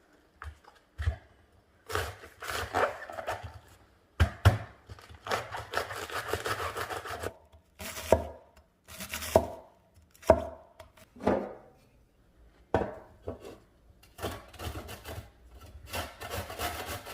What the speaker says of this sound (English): now I'm going to finely chop cabbage